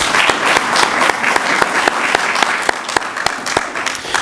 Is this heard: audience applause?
yes